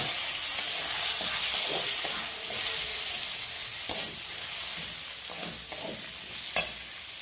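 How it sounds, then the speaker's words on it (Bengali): Chopped onion frying in oil with two dried red chillies and a bay leaf, in oil left over from frying potatoes and chicken. A steady close sizzle runs throughout, with occasional stirring scrapes and a couple of sharper pops. "পেঁয়াজটা আস্তে আস্তে একটু ভাজা হোক লাল লাল করে"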